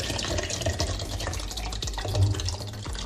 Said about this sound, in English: I'm going to pour it in the blender so we can smooth it up.